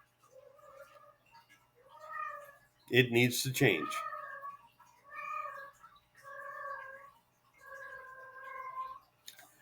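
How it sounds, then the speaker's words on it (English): A house cat meows repeatedly and caterwauls in a series of drawn-out, close cries with short pauses between them, and a person speaks briefly partway through. "my cat is being rather vociferous"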